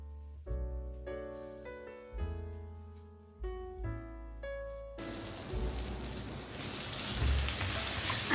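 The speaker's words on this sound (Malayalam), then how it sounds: "ഇനി നമുക്ക് ചിക്കൻ ഫ്രൈ ചെയ്തെടുക്കാം." Chicken frying in hot oil, starting with bright tonal clinks and knocks, then a loud, dense hiss and crackle of frying that keeps building and swells steadily toward the end.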